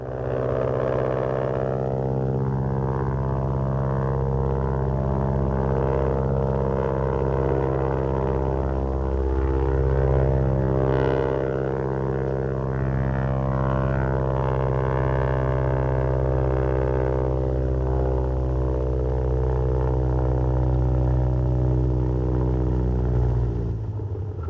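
A propeller airplane flies in a 1939 film scene, its engine a steady, loud droning hum that holds evenly for the whole stretch with no voices.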